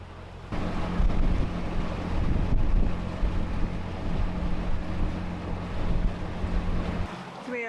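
Sailboat motoring under engine power toward the Panama Canal, a steady low engine drone under rushing wind and surf noise, with water washing along the hull throughout.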